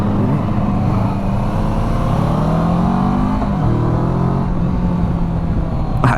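Kawasaki Versys 650 motorcycle engine intake note, loud and close, rising and falling through revs as the bike accelerates, with steady engine drone throughout and no talk.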